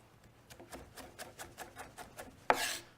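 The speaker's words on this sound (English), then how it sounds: "you're not going to break this onion while you're chopping" A knife chops through a peeled onion on a cutting board in a Japanese knife-skills setting, giving about a dozen steady, evenly spaced crisp taps followed by a louder final scrape or thud, close and without speech.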